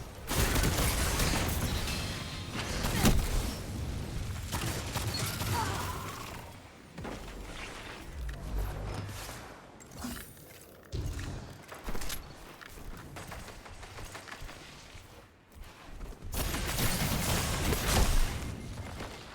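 Video game combat with shotgun blasts and Vex weapon fire layered into a dense, continuous barrage of shots, booms and impacts that surges and dips over the stretch.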